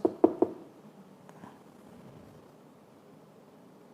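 A door is knocked at night: three quick, sharp raps close together at the start, then a faint thump, followed by quiet room tone.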